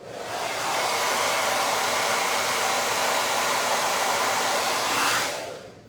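A hair dryer blows on a craft project with freshly applied lettering, a loud, close, steady rushing whoosh that switches on, holds for about five seconds and cuts off.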